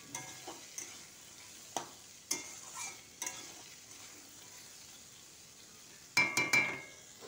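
Potatoes, onion, tomato, chickpeas and peas frying in a pan for an aloo chola curry, heard as quiet intermittent stirring scrapes and a few sharp utensil clinks against the pan, with no talking.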